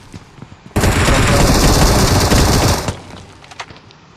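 Rapid automatic gunfire in the battle royale video game BGMI, a dense, loud burst of continuous shots lasting about two seconds before cutting off, followed by a few scattered faint clicks and quieter sounds, with no talking.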